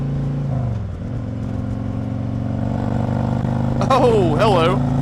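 A 2017 Harley-Davidson Street Glide Special motorcycle rumbles steadily while riding, its low engine drone continuous under wind, with a brief rising rev and some whistling tones near the end.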